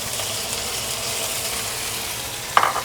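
Beef stir-frying in an oiled wok gives a steady, loud sizzle throughout, with a brief sharp clatter near the end as the meat is stirred.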